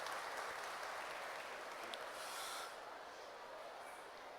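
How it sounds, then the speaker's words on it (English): An audience at a Montfort School event gives a round of applause for an educator, producing a faint, hissy wash of distant clapping that thins out toward the end, with no voices. "Please give him also a big round of applause."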